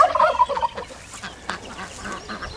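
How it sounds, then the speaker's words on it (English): Adult laying hens cluck in a short, fairly loud burst at the start, then fade into quieter background noise outdoors near a storm-damaged brooder shed. "Here's my adult layers."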